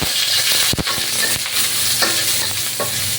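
Ginger frying and being stirred in a pan for a dish of jackfruit in coconut milk with mung beans and moringa, a steady loud sizzle broken by sharp scraping stirs and clatters of the utensil against the pan.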